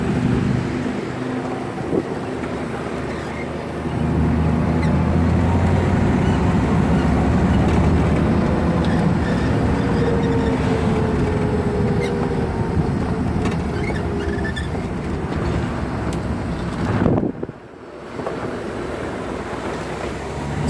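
A 1961 Chevrolet Corvette engine pulling in second gear, a loud steady drone with heavy wind rush throughout, briefly dipping near the end as if lifting off.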